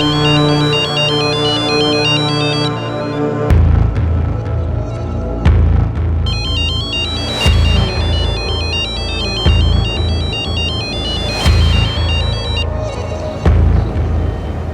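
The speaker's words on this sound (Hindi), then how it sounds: "ये रे तेरा फोन है।" Bees buzz close by around an open hive box in a steady drone, with a few soft knocks and shuffling sounds as boxes are added.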